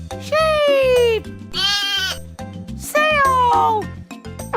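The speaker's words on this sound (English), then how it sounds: "Sheep!" A sheep bleats loudly and up close in a cartoonish children's sensory piece, giving two long wavering cries over a bouncy backing tune, with a voice speaking in between.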